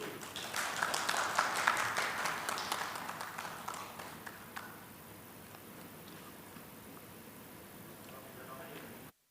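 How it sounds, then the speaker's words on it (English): Audience applause at a formal ASEAN launch event, a dense burst of clapping that is loud for the first few seconds, then thins and fades out by about the midpoint, leaving quiet room tone. "A big round of applause,"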